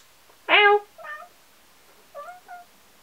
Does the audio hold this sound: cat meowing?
yes